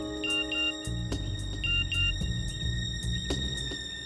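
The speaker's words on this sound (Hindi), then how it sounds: "फोन बजा।" A phone rings with repeated electronic tone bursts in a rhythmic pattern, heard clearly over a low background rumble with no speech.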